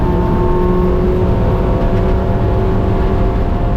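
An ST6 race car's engine drones loud and steady from inside the car on track, a constant heavy roar with a sustained whirring tone and no talk over it.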